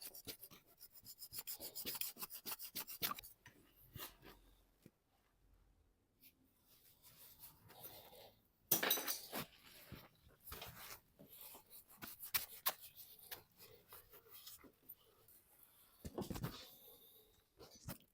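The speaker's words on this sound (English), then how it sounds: "Then I'm going to use this scraper and clean surround that area" A scraper rasps across a car engine surface to clear pink coolant residue on a 2015 Vauxhall Astra, producing repeated close scratchy strokes in uneven bursts separated by brief quiet gaps.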